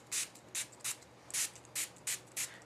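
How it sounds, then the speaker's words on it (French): A water spray bottle mists paper for a watercolor effect, with eight short, sharp hissing bursts at an irregular pace, close and fairly quiet, with nothing else around them. "je vais même prendre mon spray d'eau directement pour être sûr qu'il y en a vraiment beaucoup"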